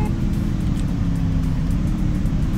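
A car engine in the Free Fire battle-royale game drones steadily and loudly close by, a constant low rumble with no talking over it.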